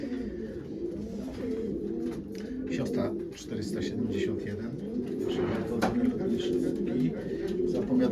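Pigeons coo in low, rolling murmurs throughout, with a few brief chirps and rustles on top.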